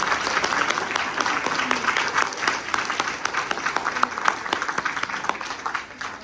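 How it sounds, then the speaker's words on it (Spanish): Sustained applause from an audience at a university event in Baja California, a dense, steady wash of many hands clapping throughout with faint voices mixed in. "un fuerte aplauso nuevamente, por favor."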